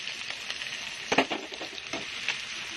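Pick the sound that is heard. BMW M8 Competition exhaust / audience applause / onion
onion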